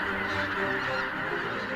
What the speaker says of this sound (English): Huge flocks of geese seeking food